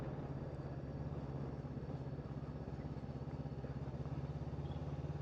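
A motorcycle engine droning steadily while riding through a city, a constant mid-level hum with wind noise, no talking.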